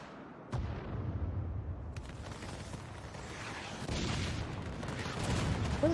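Cannons booming in Final Fantasy XIV battle, a string of heavy blasts rumbling over continuous low combat noise, with further shots rising toward the end.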